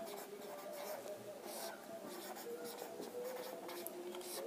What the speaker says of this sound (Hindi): अगला सवाल हम लोग लिखते हैं